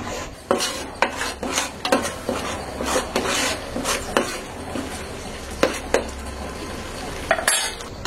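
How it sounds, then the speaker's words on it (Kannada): Food frying and being stirred in a pan, a steady run of rhythmic scraping strokes and knocks of a utensil against the pan over a low sizzle, close and fairly loud, no talking. "ಸ್ವಲ್ಪ ಇದು ಹಸಿ ಸ್ಮೆಲ್ ಹೋಗೋವರೆಗೂ ಫ್ರೈ ಮಾಡ್ತಾನೆ ಇರೋಣ."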